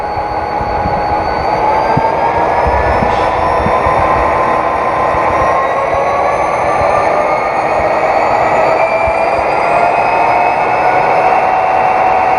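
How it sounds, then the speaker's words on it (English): A model train sound decoder plays an EMD 20-cylinder 645 turbo diesel notching up at a train show. The loud, steady engine drone rises in pitch as the throttle climbs, with no talk over it. "One of the biggest highlights of the new sounds in the decoder is our EMD 20-cylinder 645 turbo."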